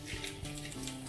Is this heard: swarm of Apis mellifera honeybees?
no